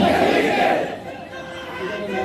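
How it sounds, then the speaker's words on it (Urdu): Crowd chanting slogans at a religious speech gathering, loud massed voices at first, then dropping to a murmuring crowd with scattered calls. "آپ نے کافی نعرے لگا لیے"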